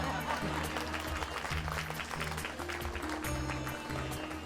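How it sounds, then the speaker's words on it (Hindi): An audience claps softly in a steady, quiet patter beneath sustained background music. "ताली धीरे से बजाना, कोई सुन न लेवे।"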